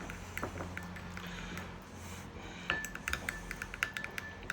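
Roasted parsnips being mixed with honey in a dish, giving repeated soft clinks and scrapes of a utensil against the dish, with sharper clinks toward the end, close and fairly quiet.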